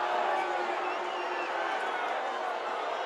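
Soccer crowd in a stadium roaring in response to a foul during a Roots SC versus LA Force match, a dense, continuous wash of cheering and shouting at steady volume throughout.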